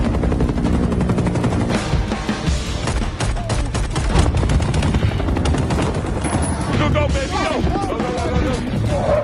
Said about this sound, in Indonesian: sebuah helikopter menembaki mereka, otomatis baku tembak pun terjadi